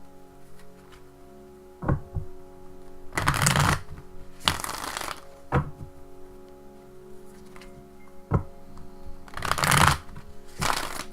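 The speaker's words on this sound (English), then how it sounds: "Just a few more shuffles, just like that." A trimmed Druidcraft Tarot deck is shuffled in several short, crisp riffling bursts separated by quiet pauses and soft taps, close and clear against a faint background hum.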